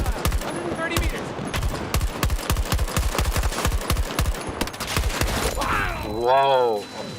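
Rapid gunfire in a war video game rattles in a long, fast, loud burst of shots, ending in a rumbling, wavering mechanical blast as a tank fires.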